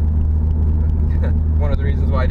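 A Mitsubishi Lancer Evolution exhaust fitted with a resonated test pipe gives a deep, steady low idle burble, close and fairly loud, with someone talking over it.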